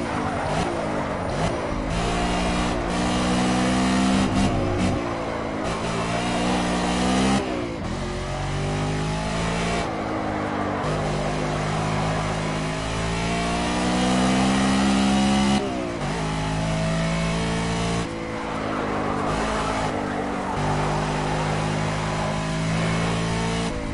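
Race cars in Project Cars roar continuously with loud engine revving, the pitch climbing through each gear and dropping at every shift in a repeating pattern.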